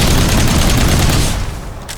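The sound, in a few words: missile barrage firing in video game Outpost Infinity Siege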